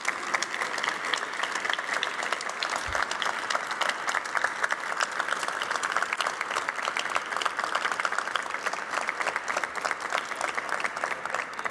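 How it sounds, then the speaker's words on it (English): Sustained, dense audience applause fills a press conference room introducing a new athletic director, steady and loud throughout with no break and no talking over it. "As you can hear from the applause"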